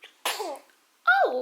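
Two quick, close human sneezes, the first sharp and breathy, the second louder and more voiced, separated by a short quiet gap with a brief exclamation between them.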